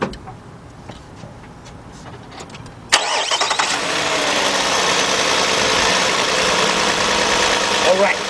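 A 2007 Nissan Murano 3.5 engine cranks and catches after a quiet stretch, then settles into a steady, loud idle with an uneven, rough character from a cylinder 3 misfire, heard close up.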